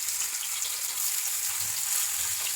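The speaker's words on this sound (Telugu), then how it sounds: "నేను డీప్ ఫ్రై కాకుండా ప్యాన్ మీద ఫ్రై చేస్తున్నా." Marinated fish pieces shallow-frying in plenty of oil in a pan, Telangana style, giving a steady, close bright sizzle with soft crackle throughout and no talking.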